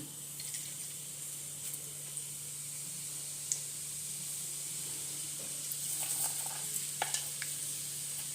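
Cumin seeds sizzle steadily in hot oil in a pan, a constant soft frying hiss with a few faint crackles and pops, with no talk.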